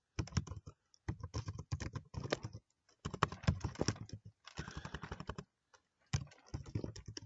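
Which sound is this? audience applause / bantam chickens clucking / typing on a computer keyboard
typing on a computer keyboard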